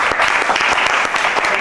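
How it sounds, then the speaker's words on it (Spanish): An audience in Bogotá breaks into loud, sustained applause welcoming a saxophonist and gaita music teacher to a workshop, dense clapping throughout with no one speaking. "vamos a recibir con un fuerte aplauso al maestro Federico Ochoa Escobar"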